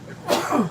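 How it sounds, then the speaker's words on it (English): One sharp, close sneeze bursts out loudly and fades within a moment, with no talking around it. "I don't like sneezes."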